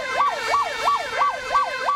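An emergency vehicle's siren wails close and loud, its rising and falling two-tone cycle repeating about six times in quick, even succession.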